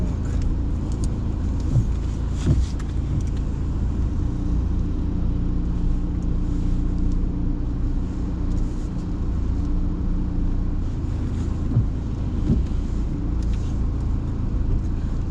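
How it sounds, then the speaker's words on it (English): A car reverses slowly out of a car park during a driving test, its engine a steady close low rumble inside the cabin with occasional small knocks and no speech. "Let's reverse out to the right so we can head back out of the car park."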